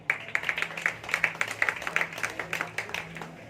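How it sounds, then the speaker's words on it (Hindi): Applause welcoming a speaker at an Independence Day flag-hoisting gathering, a small crowd clapping in quick, uneven rhythm, moderately close and steady over a low background hum. "जोरदार तालियों से इस्तकबाल।"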